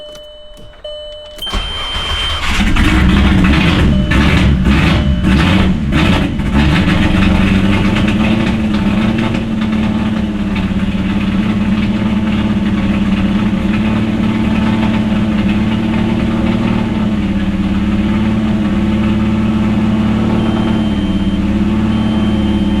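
Turbocharged VR6 car engine running at a steady idle, a loud continuous drone close by after a few clicks and a starter burst at the start.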